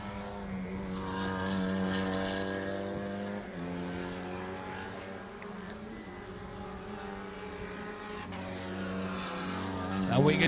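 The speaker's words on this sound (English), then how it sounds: "Now we can hear the sounds of car number 80, Tarun Muthaya, crossing the start-finish li" A Formula 2000 race car at the Indian National Car Racing Championship crosses the start-finish line, its engine note a sustained high whine with shifting pitch, loudest early and swelling again near the end under commentary.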